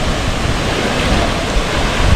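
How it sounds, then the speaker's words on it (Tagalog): Buntot Palos, a hidden waterfall in Laguna, rushes in a steady, loud broadband roar, close by and continuous, with no voices over it. "Ang ganda ng falls na to, grabe."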